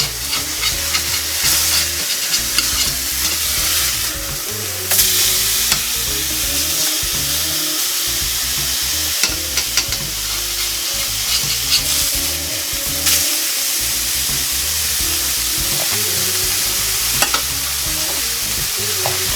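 Burgers frying in a pan, a steady loud sizzle running continuously throughout with occasional stirring or scraping sounds and no talking.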